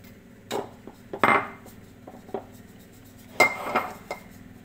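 Flour and sugar mixed in a bowl for apple and hazelnut clafoutis batter: scattered knocks and clinks of a utensil against the bowl, with a few short scraping bursts between quiet gaps.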